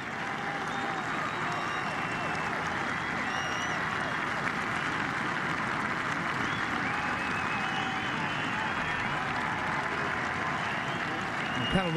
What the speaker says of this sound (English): And there's a little cheer.